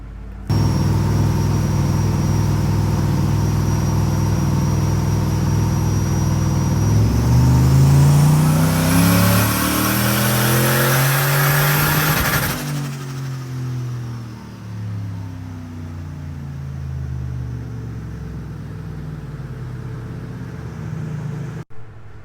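Turbocharged Nissan Y62 Patrol engine revs hard and climbs to a loud peak, then drops off and settles back with a fading, wavering tone as the run ends.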